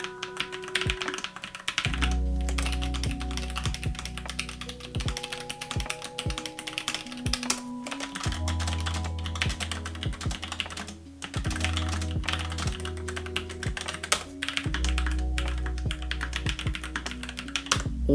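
Keys clatter in quick, irregular bursts as someone types on a NuPhy Air96 low-profile keyboard, the taps close and crisp over soft background music.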